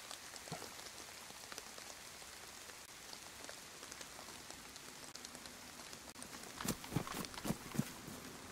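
Rain falls in DayZ on the Chernarus map on Xbox. Faint, steady pattering continues throughout, with a few louder drops and thuds near the end.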